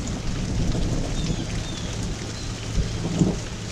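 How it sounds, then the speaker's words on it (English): Thunder rumbles low and steady under continuous rain from hurricane Ida's outer bands, with a slightly sharper rumble near the end and no voices. "I'm sure you can hear it in the background, is the crack and rumbling of thunder."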